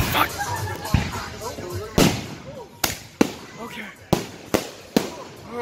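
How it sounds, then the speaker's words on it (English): Fireworks going off in a rapid string of sharp cracks and bangs, about eight loud reports spaced unevenly over a few seconds, with people talking and reacting between the blasts. "Bro, I don't even trust fireworks anymore."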